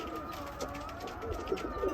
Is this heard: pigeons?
yes